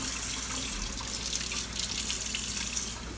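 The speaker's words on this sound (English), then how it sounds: "So I'm just rinsing out this bowl so that it won't be a big mess at the end." Tap water runs steadily into a kitchen sink while a bowl is rinsed out during cupcake baking, a constant close splashing rush with no talk.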